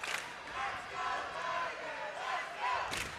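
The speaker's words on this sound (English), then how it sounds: "Student cheering section down just to our left." A student section at a boys' high school basketball game cheers and chants together in a packed gym, a broad crowd roar swelling and easing, heard from some distance.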